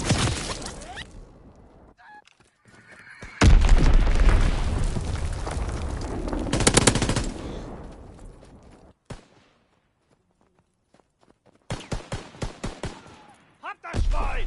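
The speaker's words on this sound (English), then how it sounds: "Enemy bomb incoming. Get to cover." Bomb explosions and bursts of gunfire in the Call of Duty WW2 video game, loud rumbling blasts and rapid shots coming in waves with quiet gaps between them, and shouted voices mixed in.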